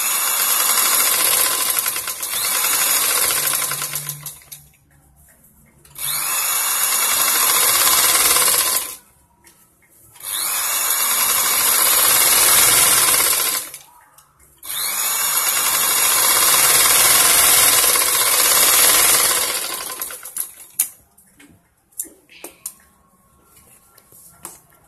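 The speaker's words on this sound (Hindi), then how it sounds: "डबल सिलाई करेंगे।" A sewing machine double-stitches a blouse in loud, even whirring runs of a few seconds each, broken by short pauses, with no talk.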